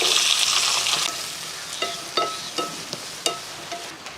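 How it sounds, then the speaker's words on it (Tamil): Two large onions frying in about a ladle of oil in a pan, a bright hissing sizzle that settles down as a spatula clinks and scrapes several times against the pan, close and without talk. "அதுக்கு கொஞ்சம் எண்ணெய் ஊற்றி விட்ருவோம் ஒரு அரை கிலோ அளவுக்கு செய்யலாம் அதுக்கு ஒரு ஒரு குளிக்கரண்டி அளவுக்கு எண்ணெய் ஊற்றினா போதும் அடுத்து ஒரு ரெண்டு பெரிய வெங்காயம் சேர்த்துருவோம்"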